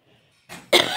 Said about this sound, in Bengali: কাশি আসছে ভীষণ